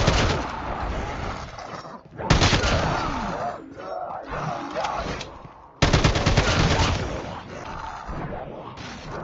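Big gun firing in Call of Duty Mobile zombies mode, loud rapid automatic bursts in long sustained volleys with short breaks, over game noise and occasional voices.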